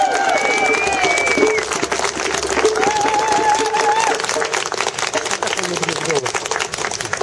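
An audience applauds steadily for Patricia Schor at a November 2014 gathering in Utrecht, a dense, continuous wash of clapping with crowd noise and some voices mixed in throughout.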